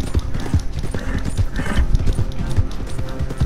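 Galloping horse hooves in Red Dead Redemption 2 beat out a rapid, steady clip-clop rhythm, close and fairly loud, with a brief whinny-like note and no talking over it.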